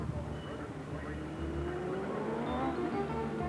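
Racing motorcycles idle and burble as they roll up and take their places on the starting grid for a 12-lap race at Hamilton, a rising engine note in the mix, under a commentator's running talk.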